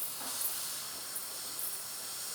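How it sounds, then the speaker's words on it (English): A Breville single boiler espresso machine purges its steam wand, giving a steady, loud hiss of steam and spurting water that runs unbroken for the whole stretch with no voices. "we're just going to switch this over to the little steam purge function"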